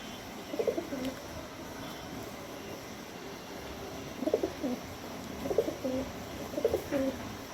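Pigeons coo in a loft, with soft, fairly close bursts of cooing repeating every second or so over a steady low background hum.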